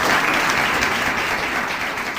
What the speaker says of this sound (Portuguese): essa fala merece uma salva de palmas